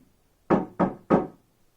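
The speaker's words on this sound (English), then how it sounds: "there was another knock at the door" Three firm knocks on a wooden door, evenly spaced in quick succession, close and clear with silence around them.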